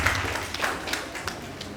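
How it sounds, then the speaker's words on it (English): An audience at an agriculture event gives a round of applause, a brief burst of scattered clapping with a few sharper individual claps standing out, and no talk over it. "Let's give them a very big round of applause"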